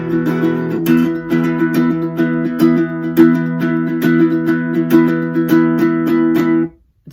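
Looped guitar layers for the bridge of a song, live looping version, with steady rhythmic strums and percussive hits stacked into a loud continuous groove before cutting off abruptly.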